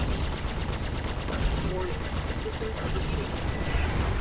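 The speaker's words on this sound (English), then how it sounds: "Someone else is shooting us." Sustained rapid gunfire from an enemy ship during a space combat battle in the Star Citizen Alpha 2.5 PC game, dense and continuous, loud throughout with voices speaking underneath.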